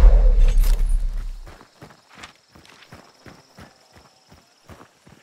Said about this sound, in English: Oh, I heard some noise. Yeah, there is a horse.